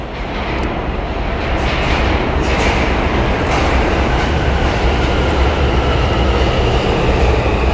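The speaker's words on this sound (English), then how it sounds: "So let's see what this train looks like." A New York City subway train pulls into a platform, a loud, steady, close roar of wheels and cars rumbling throughout with no talking.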